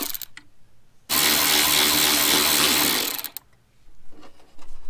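A 10 mm taillight housing bolt comes out of a Jeep TJ with a loud, continuous mechanical buzzing burst lasting about two seconds, with quieter handling noise before and after.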